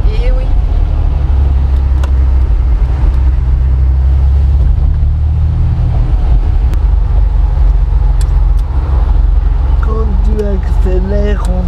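A Porsche 911 accelerating, heard from inside the cabin as a loud, steady low engine drone with rising and shifting tones near the end, while people talk over it.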